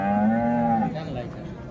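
Holstein Friesian cows at a cattle market give a loud, close, drawn-out moo with a steady low tone that fades into murmuring market background.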